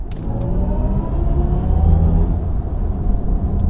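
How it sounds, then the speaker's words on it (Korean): A BMW i4 eDrive40 electric car plays its Hans Zimmer-designed drive sound, a steady low synthetic hum with faint rising tones, continuous and fairly loud with no talk. "한스 짐머와 협업해서 만든 이 사운드입니다"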